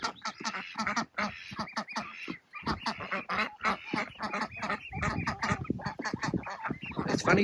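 A flock of Indian runner and harlequin ducks on a farm, quacking and honking continuously in an overlapping, busy chorus close by, loud and unbroken throughout.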